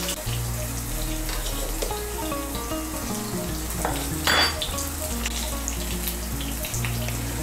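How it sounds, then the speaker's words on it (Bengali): Brinjal pieces frying in oil with salt and turmeric, a steady close crackling sizzle with occasional stirring scrapes and one brief louder burst midway. "মিশিয়ে নিয়ে বেগুনগুলোকে লাল করে ভেজে নেব।"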